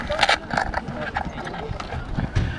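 Racehorses gallop in a quarter-horse race at a rural track near Otumba, a quick patter of hoofbeats on the dirt mixed with crowd noise, fairly close and steady for a few seconds.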